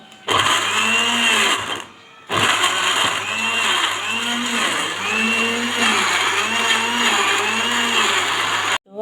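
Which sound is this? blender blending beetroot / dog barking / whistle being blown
blender blending beetroot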